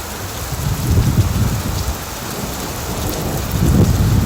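Heavy rain pouring in a forest during a thunderstorm, with low rumbling thunder swelling twice beneath the steady, loud downpour and no voices.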